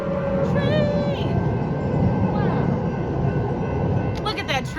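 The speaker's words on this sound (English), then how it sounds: "Please stand by as we let the light rail go by." A light rail train rolls past on a city street in Charlotte, a loud continuous rumble with a steady tonal whine and metallic squeals near the end, heard alongside background voices.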